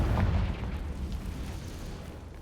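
A Confringo fire-blast spell explodes in a Harry Potter video game, one heavy low boom that rumbles and slowly fades away over a couple of seconds, with no voice over it.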